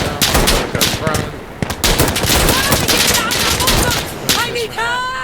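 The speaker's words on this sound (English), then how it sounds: "He's shooting, I'm gonna try to stray out of his line of fire." Rapid automatic gunfire from the shooter game Insurgency: Sandstorm, with an M249 SAW and an M16A2 among the weapons. Loud, dense bursts of shots fire almost without pause throughout, with sharp ringing tails toward the end.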